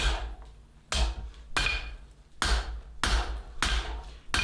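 A straight peen hammer strikes hot sucker rod steel on an anvil in a forge, with six sharp, ringing blows at a steady rhythm of about one every half second, close and loud.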